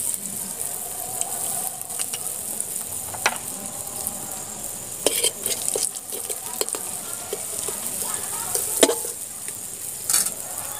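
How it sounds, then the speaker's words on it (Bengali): Asafoetida sizzles in hot white oil in a wok, a continuous bright crackling hiss with scattered pops and light spoon clicks, close and steady with no talking. "তেলটা গরম হয়ে গেছে, তেলের উপরে এই চামচে 2 চামচ আমি হিং দিয়ে দিচ্ছি।"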